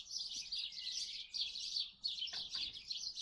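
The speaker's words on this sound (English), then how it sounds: "Listen to those sparrows holding disordered parliament down the lane." Sparrows chirp in a busy, overlapping chorus down a lane, a continuous bright twittering at moderate distance with brief dips and one low thud partway through.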